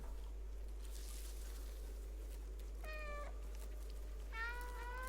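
In the video game Stray, a cat gives two clear, fairly close meows a second or so apart over a steady low hum.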